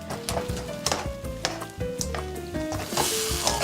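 Sea urchin uni cooks in a pan for pasta, a close sizzle with repeated stirring scrapes and light clatter of a utensil against the pan.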